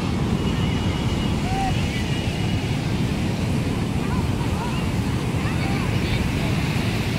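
Wind buffets the microphone at a crowded sea shore, with waves washing in as a steady broadband roar and faint distant voices in the background.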